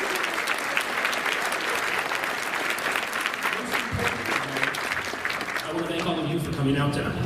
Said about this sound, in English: A special round of applause for him